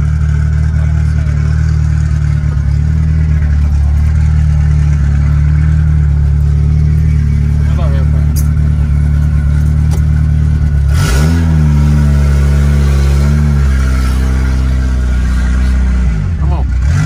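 A car engine is held at full throttle, a loud, close, steady drone that then swoops down and back up in pitch as the revs shift, with some clatter.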